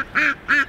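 Two short, nasal duck quacks sound in quick succession, close and fairly loud, with a brief pause between them.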